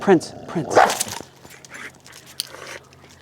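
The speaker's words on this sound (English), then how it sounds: "We are going to get this dog close to this dog without lunging." A pit bull-type dog gives sharp barks and whimpers at the start while being brought near another dog, followed by quieter shuffling and movement.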